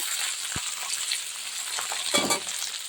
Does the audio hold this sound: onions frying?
yes